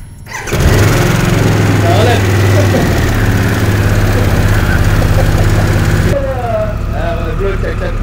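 A Harley-Davidson Sportster S motorcycle engine starts up close by and settles into a loud, steady, throbbing idle, then the pitch drops. People speak in French over it.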